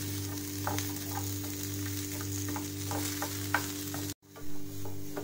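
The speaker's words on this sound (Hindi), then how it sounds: "ये देखिए प्याज को इतना ही भूनना है" A medium-sized onion, cut into large pieces, frying in a pan with steady sizzling and occasional stirring clicks over a constant low hum, with a brief dropout near the end.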